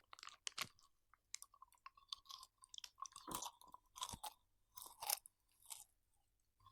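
Chocolate bar being bitten and chewed up close, a sharp snap near the start followed by repeated moist crunching and chewing bursts, fairly quiet with no talking.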